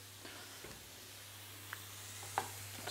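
Grass-fed butter melts over low heat in a pan for glazing vegetables, giving a faint, soft sizzle and hiss over a low hum, with a few small crackles and no voices.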